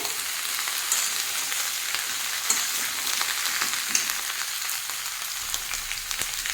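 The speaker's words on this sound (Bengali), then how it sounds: "শিম ভাজলে ওটা চলে যায়। আর এই সময় কিন্তু অবশ্যই হাই ফ্লেমে ভাজতে হবে।" Flat beans fry on a high flame for a winter vegetable and dried fish dish, giving an even, crackling sizzle with faint stirring ticks throughout.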